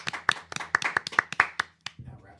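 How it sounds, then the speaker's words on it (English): A small group gives a short round of applause at a weekly majors news segment, a scattered run of about a dozen separate claps that stops abruptly, with a voice speaking over the middle. "Round of applause."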